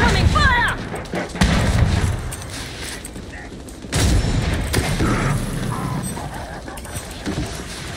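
Gears 5 played on PC, with bursts of gunfire and booming explosions that come in several loud waves, mixed with players talking over the combat.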